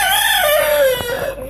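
A person imitates a rooster's crow in one sustained, loud, wavering call that slides downward, close to the listener, with no other talk around it.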